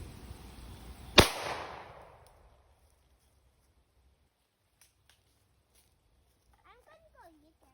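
A suppressed 300 Blackout rifle firing 220-grain AAC hollow-tip rounds, a single sharp loud report followed by a short decaying echo, then near silence with faint distant sounds.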